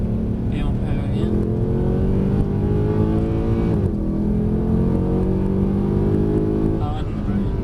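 A Mercedes car accelerates with rising engine tone, its revs climbing, dropping at a gear change, then climbing again, loud and close from inside the cabin while someone talks over it.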